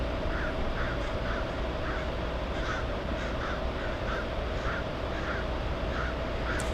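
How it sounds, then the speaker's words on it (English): A crow near LAX airport caws repeatedly in short, evenly spaced calls, fairly close and clear over a steady outdoor hum, with no one speaking. "I hear Jack the Crow as it gets pretty quiet"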